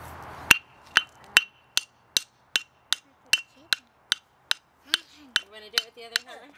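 A hammer strikes a geode about a dozen times in a steady, even rhythm, sharp clinks up close, with a voice faintly between blows.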